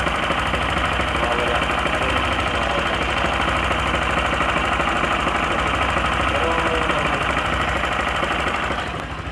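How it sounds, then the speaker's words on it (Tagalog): A Yamaha Sniper 155 VVA motorcycle idles steadily with fresh fully synthetic Shell Advance Ultra oil, its engine giving a continuous, loud, close mechanical rattle and hum that holds even throughout before a slight change at the end. "mas tumahimik ng konti yung makina"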